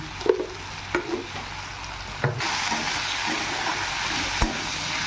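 Vetki fish pieces frying in a pan of oil, a steady close sizzle with a few sharp clinks and stirring knocks, no talking.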